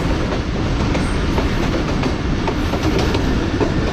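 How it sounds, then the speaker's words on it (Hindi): The Badar Express running on the Wazirabad–Khanewal branch line, heard from aboard behind the locomotive as a loud, continuous rumble with repeated clickety-clack of wheels over rail joints. "बदर एक्सप्रेस ने भी इसी ट्रैक पर आगे सफ़र करना है"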